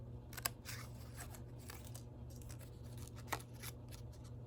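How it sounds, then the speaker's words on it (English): Scissors snip paper in quiet, isolated cuts, two sharper snips standing out among softer rustling, close and faint over a low background hum. "Come on, scissors, you can do it."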